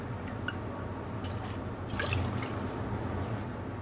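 Full cream milk trickling and dripping into a saucepan, a soft liquid pour that swells slightly midway and stays quiet throughout.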